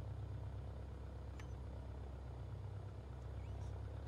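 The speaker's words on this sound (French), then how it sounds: "Faire un essai moteur quand même." A DR400 light aircraft's piston engine holds a steady, low, pulsing drone during a pre-takeoff engine run-up in Microsoft Flight Simulator, continuous and fairly quiet throughout.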